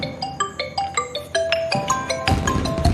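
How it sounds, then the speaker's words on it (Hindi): A phone ringtone plays a bright, repeating melodic pattern of tones at a festive Diwali gathering, ringing steadily and clearly for several seconds with no talk over it. "आपका फोन आ रहा है"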